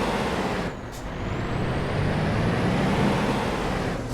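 Volvo truck engine in Euro Truck Simulator 2 rumbles steadily and loud, with a short air-brake hiss near the start and a rising whine at the very end.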